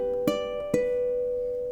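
Ukulele notes are fingerpicked close up, with two plucked attacks early on followed by a sustained ringing tone that fades slowly, from an arpeggio pattern.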